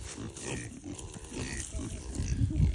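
Pigs grunting as they are herded out to pasture for the first time this year, low rough grunts clustering and growing louder toward the end, with a person calling to them over farmyard noise.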